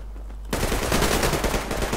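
Rapid automatic gunfire in the Survarium shooter game bursts in suddenly after half a second of near quiet and continues as a dense, loud, sustained volley to the end.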